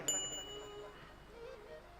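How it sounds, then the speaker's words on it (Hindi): A single bell struck once, its bright metallic ring sustaining and slowly fading. "घंटी"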